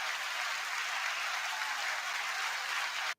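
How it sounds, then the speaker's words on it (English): A live audience gives a round of applause, a dense, even wash of clapping that holds steady for about three seconds and then cuts off abruptly. "How about a round of applause for him?"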